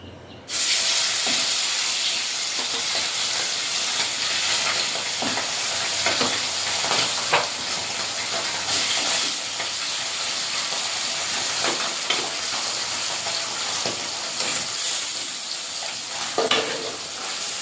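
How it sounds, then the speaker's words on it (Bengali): Folui fish fry in hot oil in a wok, a loud continuous sizzle and hiss with occasional stirring clatters throughout. "কড়াইটা গরম হয়ে গেছে, এবারে মাছগুলো ভেজে নেব।"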